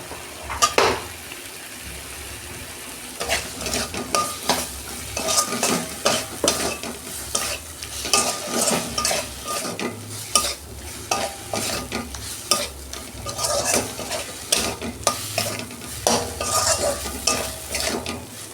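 Potatoes frying in oil with a mustard spice paste for a homestyle Bengali vegetable dish, a continuous sizzle broken by frequent scraping and clinking of a spoon against the pan, close and busy, no talk.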